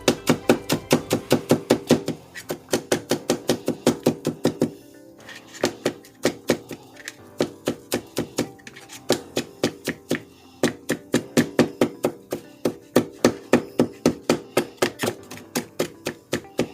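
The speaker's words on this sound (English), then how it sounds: "Just 1 clove of garlic. Okay. This 2, I'm going to mince this up nice and small." A knife chops rapidly on a cutting board, mincing a single garlic clove into small pieces for vegan potato croquettes: fast, steady, close-up taps in long runs with a brief pause midway.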